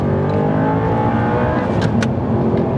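An Audi R8 with a gated manual gearbox revs with a loud, dense engine roar, steady and close throughout, with a couple of brief sharp transients partway through.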